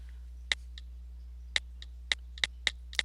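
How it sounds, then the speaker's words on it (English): Several sharp, isolated clicks of computer keyboard keys being pressed, spaced irregularly, close and fairly quiet over a low steady hum, with no talking. "I was trying to type with my computer keyboard"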